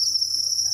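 Honey crickets on a cricket farm, kept on banana stems, keep up a steady, loud, high-pitched continuous chirping trill from close by, with no voices.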